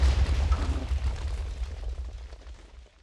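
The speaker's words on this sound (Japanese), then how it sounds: "今の大爆発なんなの？" A large explosion in a Minecraft Pokémon mod game, a heavy rumbling blast that starts loud and rolls on with crackling debris before slowly fading.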